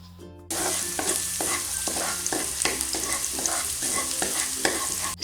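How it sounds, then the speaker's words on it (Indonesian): Minced garlic sautés in hot cooking oil in a pan, a steady loud sizzle with rhythmic scraping stirs throughout, no voices. "Tumis hingga harum."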